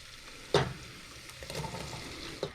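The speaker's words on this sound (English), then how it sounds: "now we're putting in the beans" Beans dropped into a hot pan while making huevos rancheros, a soft sizzle and frying crackle following a sharp clatter as they go in, fairly quiet and close.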